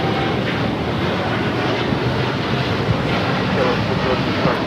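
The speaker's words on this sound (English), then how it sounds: "the 787-10 Dreamliner heading back to Amsterdam, now rolling down, 25 right" A KLM Boeing 787-10 Dreamliner rolls down runway 25 right at Los Angeles International Airport for takeoff, a steady broad roar of jet engines heard from a distance, mixed with wind buffeting the microphone.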